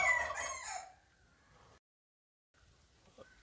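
A rooster crows loudly up close at the start, the call fading out within a second, followed by quiet and faint scattered sounds.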